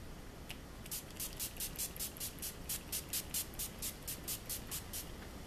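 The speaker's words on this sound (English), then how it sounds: "I'm going to apply this NYX Dewy Finish Long Lasting Setting Spray here" Rapid series of short, crisp spritzes of NYX Dewy Finish Long Lasting Setting Spray, around twenty quick pumps in a steady rhythm, close and fairly quiet against a faint hiss.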